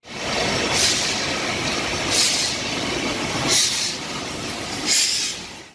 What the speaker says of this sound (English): A huge train came in.